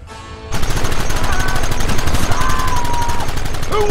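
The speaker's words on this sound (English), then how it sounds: "There they are! Open fire!" Heavy gunfire in the Red Dead Redemption game breaks out after a brief lull: a dense, loud, continuous volley of rapid overlapping shots from several guns that keeps going without a pause.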